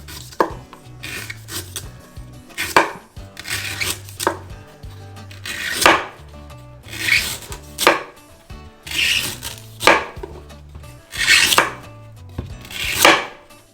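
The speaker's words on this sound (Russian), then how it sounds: "Кладем его на бок и с трети срезаем ненужные волокна." A knife shaves the fibrous husk off a drinking coconut in repeated rough scraping strokes, about eight bursts spaced a second or two apart, close and clear with no speech.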